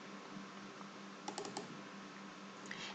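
Computer mouse double-clicking on a home computer: a couple of quick, faint paired clicks in the middle of a quiet room hum, with another light click near the end.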